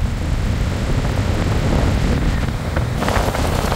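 Very strong gusting wind roars over the sea with waves breaking below, a dense, loud broadband rush that swells into a harder gust near the end, with no talking.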